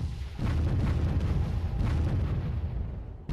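Mortar artillery fires in the Warzone 2100 real-time strategy game, a dense, continuous rumbling barrage of booms that holds steady for several seconds before cutting off abruptly.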